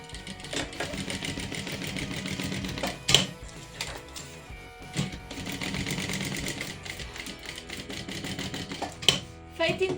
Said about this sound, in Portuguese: Atenção, é só uma costura à beirinha, fazer retrocesso no início e no fim.